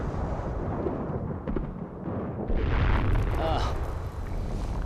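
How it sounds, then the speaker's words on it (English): An active volcano hurls out red-hot rocks that land with heavy booming thumps over a continuous roaring rumble, loud and close, the impacts swelling partway through. "you can hear the bangs as they hit the ground, the great thumps"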